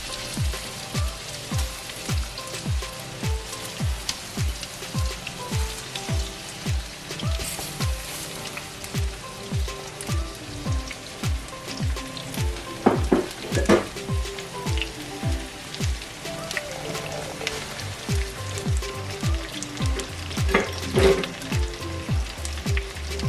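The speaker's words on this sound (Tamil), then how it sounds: "இந்த மீனை ஒரு லைட்டாக மெதுவாக டீப் ஃப்ரை இல்லை, லைட்டாக ஒருக்கா பொரிக்க போகிறேன்" Fish frying lightly in sesame oil in a pan, a steady bright sizzle and spatter with a rhythmic low tapping underneath, continuous and close without speech.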